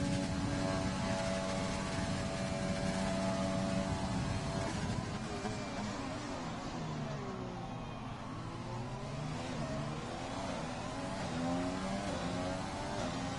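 Formula race car engine in a racing video game, driving a hot lap of the Vietnam Grand Prix circuit. A continuous loud engine drone rises and falls in pitch through gear changes and corners, with no voices.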